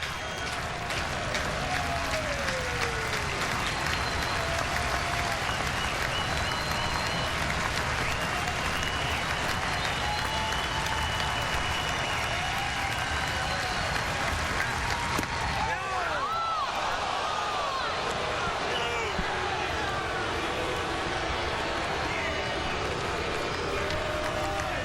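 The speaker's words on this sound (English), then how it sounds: "The crowd loved that call." A baseball stadium crowd at a Cubs at Phillies game in 2011 roars after an umpire's call, a loud, broad wash of cheering and applause that holds throughout with talk layered on top.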